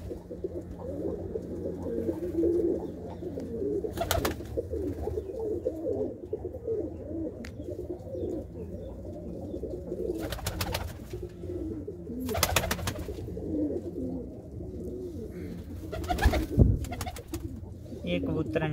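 Pigeons in a breeding loft coo in soft, repeated low phrases close by, with a few brief flapping bursts, and someone speaks intermittently over them.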